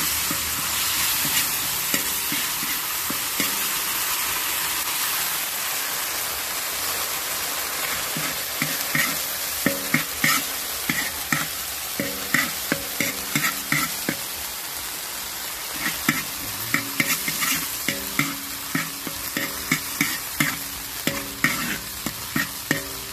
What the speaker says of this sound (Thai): ใส่ปลากระป๋องลงไปคั่วปลากระป๋องก่อนนะครับ